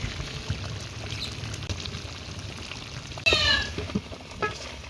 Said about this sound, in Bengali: মুরগিটা ভালো করে কষাই লইছি, এখন দিয়ে দেবো মুরগির স্পেশাল মশলা।